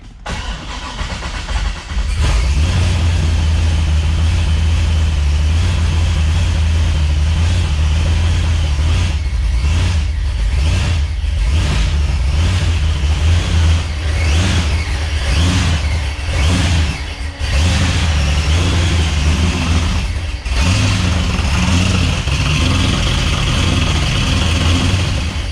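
Supercharged engine cranks briefly, catches and settles into a loud, close, steady idle, with a few blips of revving partway through.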